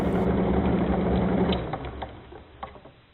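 A Eumig P8D film projector runs with a steady mechanical whir and rhythmic clatter from its motor and mechanism, loud at first and then winding down and fading over a few seconds, with no voices.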